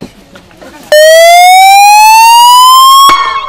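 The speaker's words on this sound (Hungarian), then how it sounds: "milyen érzés egy szirénázó rendőrautóban ülni" A police car siren wails loudly, starting abruptly and rising in a long steady sweep for about two seconds before cutting off, with faint background noise before it.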